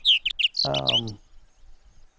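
Several quick, high bird chirps ring out near the start, then someone speaks briefly before it goes quiet.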